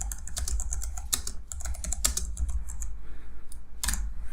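Quick bursts of keystrokes clatter on a computer keyboard as a short note is typed, close and crisp over a low steady background hum, with pauses between the runs of keys.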